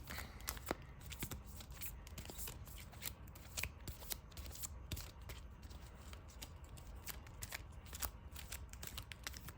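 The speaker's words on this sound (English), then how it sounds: "Get a quick shuffle." A deck of trading cards shuffled by hand at close range, a dense, continuous riffle of quick papery flicks and slaps lasting several seconds, with no talking over it.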